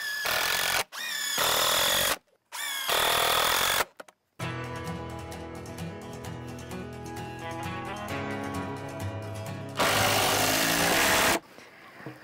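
A power drill drives screws into a beam of a post-and-beam firewood shed: three short, loud whirring bursts, then a longer, lower steady whine, and a final burst, all close to the listener.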